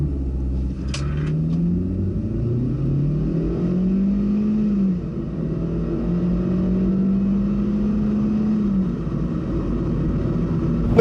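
A Hyundai Avante 1.6 GDi gasoline sedan accelerates hard, its engine note rising through several gears in a steady, fairly loud drone heard from inside the cabin.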